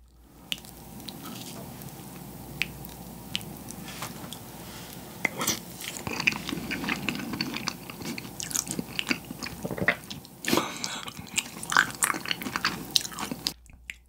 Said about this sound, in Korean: 명란젓을 딱 올려서 먹으면 돼요